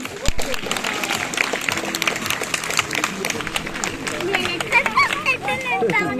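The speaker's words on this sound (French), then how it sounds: "Et on peut applaudir Nora." A zoo crowd applauds the sea lion Nora after her show act, a dense wash of clapping mixed with crowd chatter and cheering, steady and fairly loud throughout.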